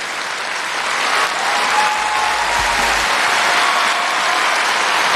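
Sustained, dense applause from a large audience fills a hall at the Victoria 2024 music awards ceremony in Russia, loud and steady throughout.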